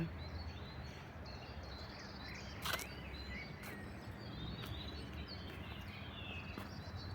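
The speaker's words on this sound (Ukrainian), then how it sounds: "Чуєте, як співають пташки?" Small birds sing in a Polish village near Kraków beside a flowering hedge planted around a hospital, with faint, scattered high chirps and tweets over a steady, wind-like background hiss.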